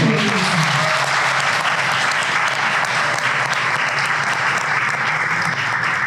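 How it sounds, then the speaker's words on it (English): Loud, continuous audience applause for a festival at a cast and crew event, many people clapping steadily for six seconds with a dense, unbroken texture and no speech over it. "So I think we should give a round of applause for the festival"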